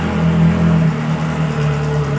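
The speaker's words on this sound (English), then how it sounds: "I think they're bringing in the 458 Challenge Evo that's outside." A Ferrari 458 Challenge Evo race car drives into a race car garage. Its engine gives a loud, close, steady droning hum with a slight rise in pitch.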